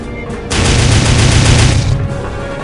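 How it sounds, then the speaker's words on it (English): Guns mounted on a power loader mech in the video game Aliens vs Predator 2 fire a loud, continuous burst of rapid gunfire lasting about a second and a half, then cut off abruptly. "Oh, that's a power loader with guns."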